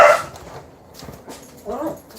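A guard dog indoors by a door barks sharply, then goes quiet and lets out a couple of softer whimpers and yips, close and loud, with a person talking nearby.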